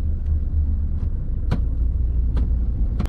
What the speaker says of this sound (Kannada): ಪವರ್ ಮೂಡಲ್ಲಿ ಗಾಡಿ ಯಾವ ಥರ ಪರ್ಫಾರ್ಮೆನ್ಸ್ ಆಗುತ್ತೆ ಅಂತ ನೋಡೋಣ